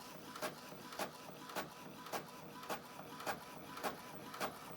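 Inkjet printer running off sheets of duck stickers, with a regular mechanical clack roughly every half second over a steady whirring hum, no talking.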